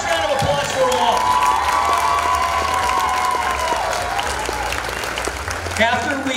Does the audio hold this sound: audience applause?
yes